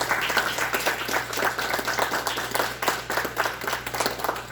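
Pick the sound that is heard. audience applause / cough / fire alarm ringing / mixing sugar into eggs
audience applause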